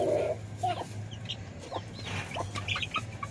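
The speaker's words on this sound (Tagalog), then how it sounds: "Tukahan ulit tayo ng manok." Chicken clucking and squawking up close in short, agitated bursts as it is being caught, with a low steady hum underneath.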